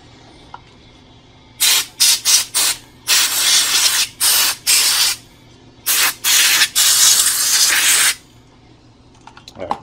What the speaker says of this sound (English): I'm going to go ahead and do it with an air compressor.